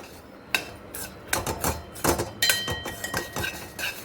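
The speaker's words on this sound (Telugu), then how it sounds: "ఇప్పుడు శనక్కాయ పప్పులు, నెక్స్ట్ శనక్కాయ పప్పులు దీంట్లో వేసుకొని కలిపేసుకోవాలి." Peanuts being mixed into thick jaggery syrup in a pot, with a spoon knocking and scraping against the metal in quick irregular clanks and rattles, close and fairly loud.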